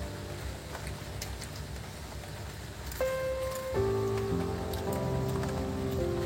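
Steady rain patters continuously. Partway through, sustained tonal sounds rise over the rainfall.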